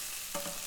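Tomatoes and chopped green chilies sautéing in a pan for leftover idli upma, giving a short, soft sizzle with a light stir near the middle, alone and fairly quiet.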